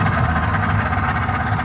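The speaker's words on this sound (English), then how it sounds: "There's the engine." The engine of a 2004 Sweetwater Tucany 22-foot pontoon boat idles warm with a steady, loud, low rumble, unbroken and without voices.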